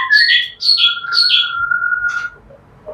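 A white-rumped shama sings a rapid series of bright, whistled chirping phrases, loud and close, ending with a sustained tone and a brief flourish.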